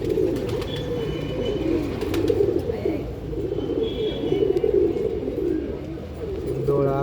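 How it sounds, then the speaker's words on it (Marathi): Pigeons coo in soft, repeated rolling calls close by, a continuous low warbling chorus with faint higher chirps and clicks in the background. "हे कबूतर आहे"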